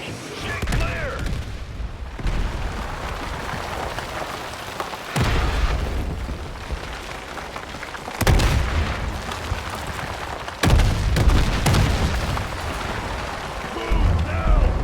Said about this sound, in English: Incoming artillery! Get clear!